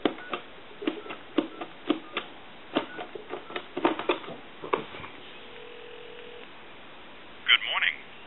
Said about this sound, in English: we'll move the telephone over to a regular line. Give you some dial tone.